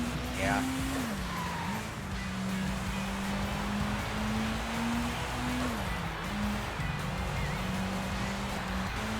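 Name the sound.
race car driving in the video game Sega GT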